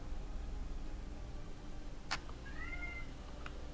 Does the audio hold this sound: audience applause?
no